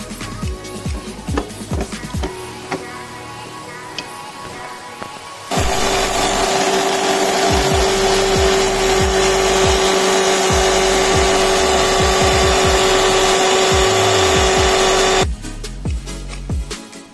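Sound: mixer grinder grinding dried ginger into powder

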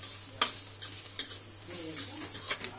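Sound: stir-frying carrot fry in a pan

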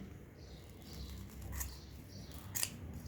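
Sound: scissors cutting hair off vacuum cleaner brush roll

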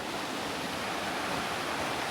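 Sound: stream water gurgling over stones at Rangpani

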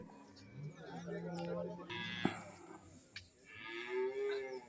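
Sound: large buffalo mooing at a cattle market

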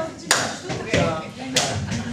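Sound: stomp and clap rhythm

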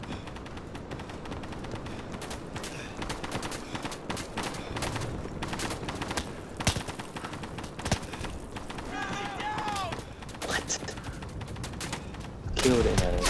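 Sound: gunfire in video game Day of Infamy

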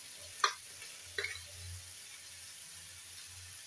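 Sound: stirring spices sizzling in a pan

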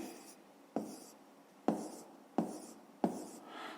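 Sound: writing on paper

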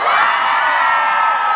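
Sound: concert crowd screaming on countdown

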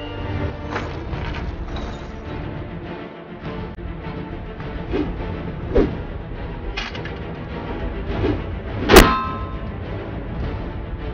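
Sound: Foley swish topped with a metal zing

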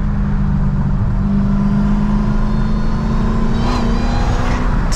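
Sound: Dodge Hellcat muscle car engine revving

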